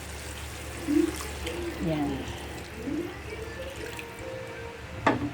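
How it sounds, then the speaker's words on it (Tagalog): Water is poured into a simmering pot of fish escabeche cooked in vinegar, giving a splashy liquid trickle with a few gurgles and a sharp clink near the end. Someone speaks briefly over it. "Ngayon lalagyan na lang natin ng tubig."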